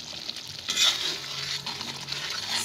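A soya bean tomato stew cooks in a pot with a steady close sizzle and spattering, plus brief stirring clinks against the pot; no voices.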